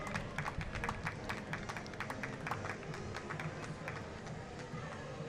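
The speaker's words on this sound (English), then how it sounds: "they're getting a nice round of applause" Spectators lining the 2025 Appleton Flag Day Parade clap outdoors, a faint, fairly distant patter of many hands that stays even and continuous throughout.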